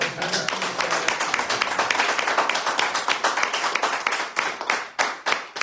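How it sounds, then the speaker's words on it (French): A live radio-show studio audience claps for an introduced guest, a dense patter of quick hand claps from a small crowd that stays close and even, thinning into a few scattered claps near the end, with no voices. "On va applaudir aussi, même s'il ne le mérite pas,"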